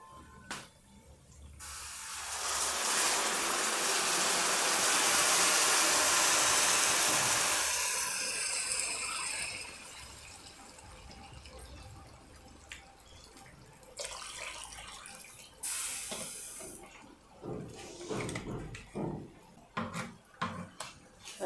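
Water is poured into a cooking pot of fried rice for a pork rib stew, a steady loud rushing stream lasting several seconds, then clinks and small kitchen sounds follow.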